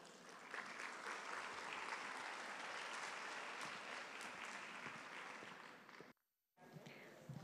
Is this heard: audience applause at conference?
yes